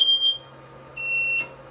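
A CW5200 laser chiller gives sharp, high electronic beeps, two short tones then a longer one, loud and close with no talking.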